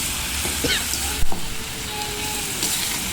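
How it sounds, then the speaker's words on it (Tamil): Cooked chicken tossed with onions and dried red chillies in a hot pan: a steady, close sizzle throughout, broken by a few scraping stirs and one sharp clatter of the spatula, with no talking. "ஓகே, இப்போ நம்ம வேக வச்ச சிக்கன் இருக்கு இல்லையா, அதை வந்து இதில் ஆட் பண்ணிடுறோம்"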